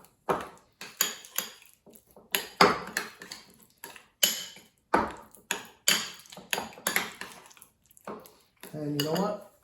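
A utensil clinks and scrapes against a bowl while sauce ingredients with grated ginger get stirred, a run of sharp close taps and clatters in bursts, with a short stretch of talking near the end.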